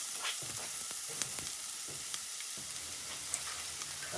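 One small chopped onion frying in hot oil, a steady soft sizzle with occasional light clicks and scrapes of stirring, close and fairly quiet, no voices.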